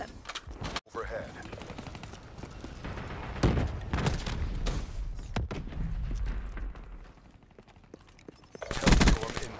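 Bursts of automatic gunfire and explosive booms from the video game Call of Duty: Black Ops III, loud and close, with repeated volleys through the middle and a heavy blast near the end.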